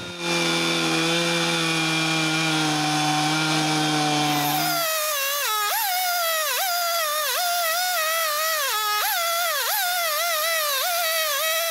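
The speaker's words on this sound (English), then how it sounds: "One thing I can say is this homemade chainsaw mill is a blessing." A chainsaw runs at a steady high whine, then bogs and surges in repeated cycles as a homemade chainsaw mill cuts lengthwise through timber into planks, loud and close.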